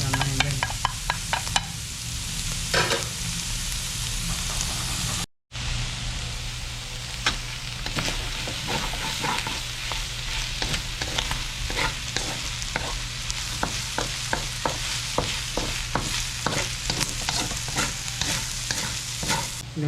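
Garlic, onion and ginger sauté in a hot pan for a dinuguan pork blood stew, a steady loud sizzle broken by repeated scraping stirs, with a brief dropout early on and no talking.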